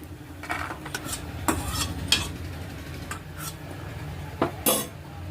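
Cashews frying in a pan over a low flame while a metal spoon stirs them, giving irregular close scrapes and clinks against the pan over a soft, steady sizzle, with no talking.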